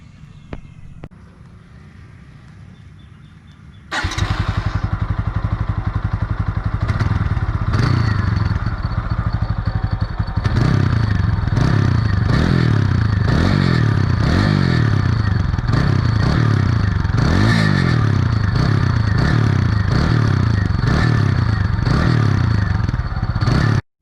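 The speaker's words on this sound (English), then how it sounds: "now it's time for you guys to hear the exhaust note" A TVS Apache RTR 200 motorcycle with about 20,000 km on it starts up after a quiet moment, then idles with a loud, close exhaust note, followed by repeated rhythmic throttle blips.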